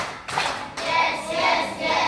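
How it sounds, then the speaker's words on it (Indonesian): Children in a classroom clap their hands together, with a couple of sharp, fairly loud bursts of clapping in quick succession against a noisy room. "Tepuk satu, tepuk dua,"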